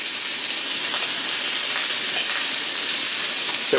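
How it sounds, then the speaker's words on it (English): Lamb chops searing in hot oil in a pan give a steady, close, bright sizzle and crackle that holds evenly throughout with no talking. "So we're just going to let that go ahead and sear."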